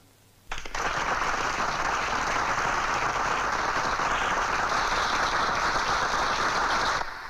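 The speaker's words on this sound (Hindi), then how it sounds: "तो ये सब तालियां बजाएंगे" A crowd applauds loudly and steadily at a public ceremony where a garland is placed, the dense clapping starting abruptly and holding at full level for about seven seconds before it cuts off.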